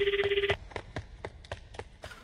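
A mobile phone call is placed in a Japanese free horror game, starting with a short pulsing electronic tone. Soft, irregular taps like footsteps follow in a quiet room.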